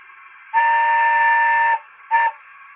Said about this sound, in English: you can dual it with 12 to get a dual whistle